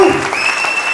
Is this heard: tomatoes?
no